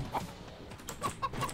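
A chicken clucking in a video game, several short, quiet clucks spaced irregularly over a soft background.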